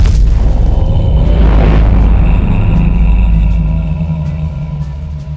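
A tribesman killer skin's Howl ability effect in the game Die of Death: a loud booming blast with a deep rumbling tail that swells briefly and then slowly fades, with no voices.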